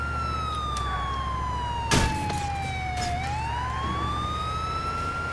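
An ambulance siren in the video game GTA IV wails steadily up and down in long continuous sweeps, loud and close, with a brief engine and traffic burst partway through.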